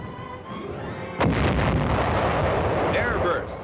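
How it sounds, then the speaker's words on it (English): Artillery fires white phosphorus shells onto hillside positions in Korean War newsreel footage, a sudden heavy boom followed by rumbling blasts and a further burst, under a narrator's voice. "Here, white phosphorus shells pound communist positions."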